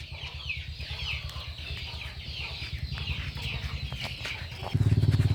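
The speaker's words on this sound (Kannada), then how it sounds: "ನೋಡಿ ಸ್ನೇಹಿತರೆ ಇವರು ನ್ಯಾಚುರಲ್ ಆಗಿ ಕೋಳಿಯನ್ನ ಸಾಕ್ತಾರೆ" Native country chickens cluck steadily in a mulberry orchard on a farm, a busy flock murmuring at close range with no voices, and a louder burst of clucking comes in near the end.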